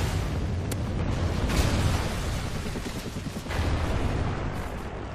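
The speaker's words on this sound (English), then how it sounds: "Friendly Trinity rocket inbound." A Trinity rocket strike in a video game explodes with a rumbling, sustained blast that rolls on for several seconds, dense and booming, with sharp cracks of other gunfire mixed in.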